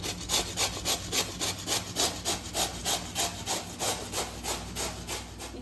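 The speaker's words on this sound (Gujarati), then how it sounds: "દૂધીને છીણી લેવાનું છે." Rhythmic rasping strokes as bottle gourd is grated by hand for sooji handvo, about two strokes per second, steady and close, with no voices.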